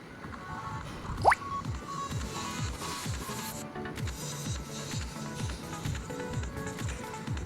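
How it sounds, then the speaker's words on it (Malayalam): Prawns being rubbed with turmeric powder by hand, giving soft, wet squishing and sticky smacking sounds that repeat close up and quietly, with one brief brighter squeak early on. "മഞ്ഞൾപ്പൊടി നല്ല രീതിക്ക് കൊഞ്ചിലൊക്കെ തേച്ച് കൊടുക്കാം"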